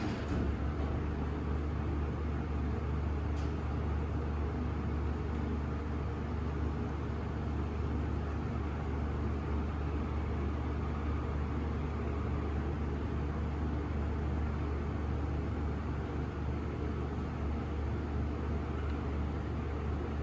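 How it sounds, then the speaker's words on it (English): Haughton traction elevator motor running during a slow ride at a Dillard's in Belden Village Mall, Canton, Ohio: a steady low hum and whirring drone, constant and unchanging throughout with no speech. "let's listen to the motor"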